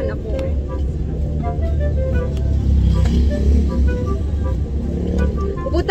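A car being driven, its engine giving a steady low rumble inside the cabin while people talk throughout.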